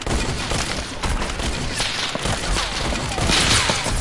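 Rapid gunfire bursts in the video game Fortnite, a dense, loud fusillade of overlapping shots with booms and thuds running continuously across the whole stretch.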